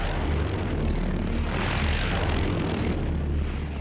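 A V-1 flying bomb, the wartime Doodlebug cruise missile, drones on its pulse jet engine with a steady, loud, coarse roar and low rumble that holds throughout without breaks.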